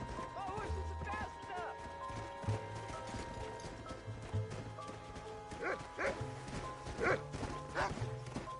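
Horse hooves clop along in the Red Dead Redemption video game, a quiet rhythmic gallop beneath a man's speech, with a dog barking and faint game ambience behind.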